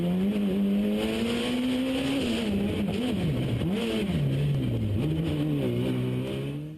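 A Proton Satria rally car drives hard on a stage of the 2011 Malaysia Rally, its engine loud and continuous, the pitch rising and dropping through gear changes and lifts, with faint tyre and gravel noise underneath.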